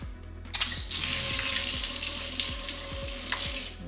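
Water is switched on at the supply for an AR Blue 630TSS pressure washer and rushes steadily and loudly, with faint rhythmic clicks underneath.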